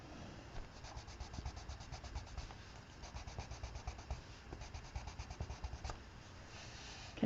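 Pencil strokes rub quickly back and forth across a coloring book page, a soft, close, rhythmic scratching in short bursts with brief pauses, with no talking.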